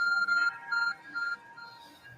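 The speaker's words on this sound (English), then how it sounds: "Your art phone is beeping." In the video game Pokemon Legends Arceus, the Arc Phone beeps: a repeating electronic tone in short pulses that fade over about two seconds, with no talking.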